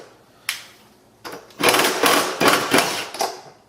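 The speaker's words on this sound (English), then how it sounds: "I'm going to take these two torque bolts out." Two torque bolts are taken out of a door handle with a power driver, short whirring bursts of the tool spinning in several quick pulses, close and fairly loud.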